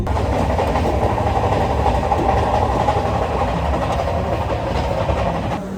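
The Coromandel Express running on the rails between Shalimar and Balasore, a loud, steady rumble of wheels and carriages heard from inside the train, continuous throughout with a faint rhythmic clatter.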